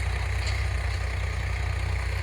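A Swaraj tractor engine idling nearby, a loud, steady low diesel chug with an even pulsing rhythm that holds unchanged throughout.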